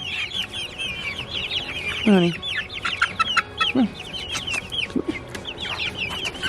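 Hens cluck and chatter in a farmyard, a busy flock of short repeated calls with a few louder squawks, while a person speaks briefly.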